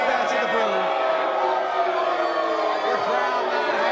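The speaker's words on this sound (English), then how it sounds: "The crowd not happy." A wrestling crowd at a CCW title match in Port St. Lucie reacts with displeasure, a mass of voices swelling in boos and shouts beneath a commentator's talk.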